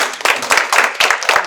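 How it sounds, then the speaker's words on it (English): An audience at an afternoon poetry reading and conversation claps in short, close, lively bursts of applause. "another big round of applause"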